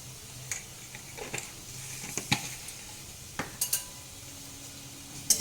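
Grated coconut with a little salt fries in a pan, a soft steady sizzle broken by scattered clicks and scrapes of a spatula stirring against the metal.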